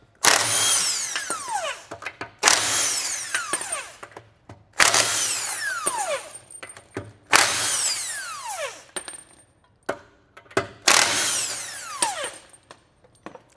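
Power tool, likely an impact wrench, spinning lug nuts off a Range Rover wheel on a jacked-up vehicle: five loud, close bursts of whirring and rattling, each about two seconds long, separated by short pauses.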